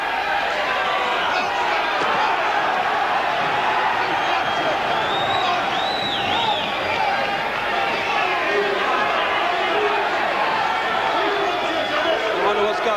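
Old fighters and crowd cheering around the boxing ringside at a title fight, a dense steady roar of voices and chatter filling the hall, loud and continuous with no break.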